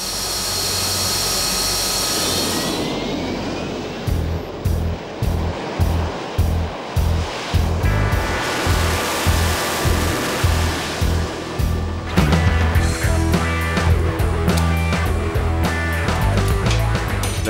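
A Harrier jump jet's engine roars loudly during a vertical hover. A continuous, powerful rush turns into a rhythmic series of pulsing surges, then settles into a dense, steady roar.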